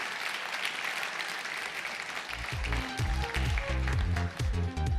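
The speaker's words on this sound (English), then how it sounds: "Let's give Nikki a round of applause" An audience at a Rotary session claps for its new vice president, a dense patter of many hands that swells louder midway and carries on steadily, with some murmuring mixed in.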